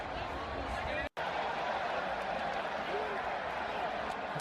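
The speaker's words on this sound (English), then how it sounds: "Braga fans cheering their team on to tie this game against the 14-time Champions League" A football stadium crowd of Braga fans roars with a steady, dense cheer throughout, broken only by a brief cut, while a commentator talks over it.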